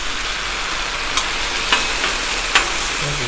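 Potatoes and smoked sausage fry in oil on a hot Blackstone griddle, a loud, constant sizzle with a few sharp scrape and clink accents as the food is tossed around.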